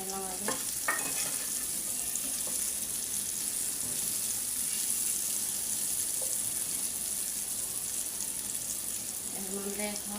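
Rui fish frying in a pan: a steady, dense sizzle runs unbroken throughout, close and even, with a few faint clinks near the start and end and no voice over it.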